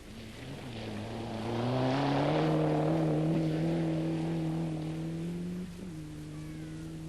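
A Ford Sierra Cosworth rally car at speed on a forest stage, its engine holding a loud, steady high-revving drone that climbs in pitch, then briefly dips and settles near the end, with no voices.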